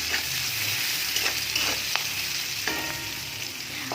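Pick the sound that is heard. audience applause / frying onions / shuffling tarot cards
frying onions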